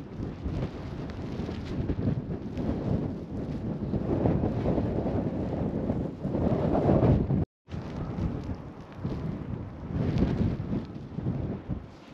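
Wind at a snowy camp site roars and buffets steadily against the microphone, rising and falling in strong gusts with one brief dropout, with no voices.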